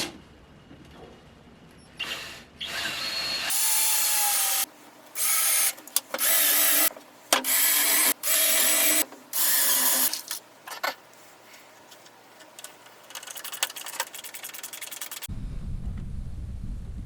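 A power drill drives screws into the wooden runners of a table saw spline jig sled, with a series of loud, close whirring bursts separated by short pauses, then quieter handling noise.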